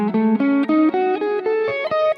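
Electric guitar plays single clean notes of a minor pentatonic scale with an added flat 5, stepping up and back in a quick, even run of distinct picked notes, close and alone.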